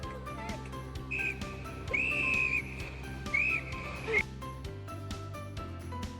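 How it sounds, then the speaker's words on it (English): A small survival whistle is blown in several shrill, sustained blasts of varying length, close and fairly loud, over faint background noise with no talking. "Then one survival whistle in case you're lost in the forest."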